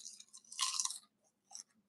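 Someone chews crunchy food up close, with a dense burst of crisp crunching followed by a pause and one more short crunch, loud and intimate with no talk.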